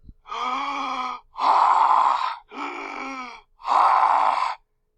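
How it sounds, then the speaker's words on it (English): Four long, heavy, raspy breaths, alternating in and out, close and loud with short pauses between them. "Cookie Monster, definitely breathing."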